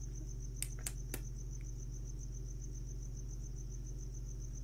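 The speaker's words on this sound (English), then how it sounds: "Don't you guys love that sound of crickets?" Crickets chirp in a steady, high pulsing trill against a low background hum, with a few soft clicks early on.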